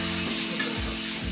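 Bottle gourd frying in oil for a fish-bone lau ghonto, a close steady sizzle with a couple of soft stirring scrapes, no talking.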